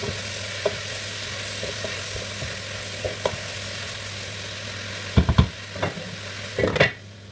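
Fish pieces and salt stirred together in a pot, a soft continuous sizzle with a few scattered scrapes and a louder clatter of the spoon near the end, no speech.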